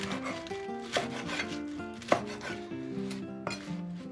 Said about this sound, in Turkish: O yüzden şöyle kaba kaba keselim bunları